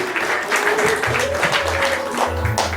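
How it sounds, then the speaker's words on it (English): Wedding guests applaud the couple at a celebration at The Palace of the Lost City, with steady clapping that fills the room over a low hum of background music. "Let's give them a round of applause, bhaias and beans."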